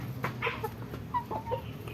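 Black Australorp hens cluck softly nearby in a short run of brief, uneven calls over quiet farmyard background.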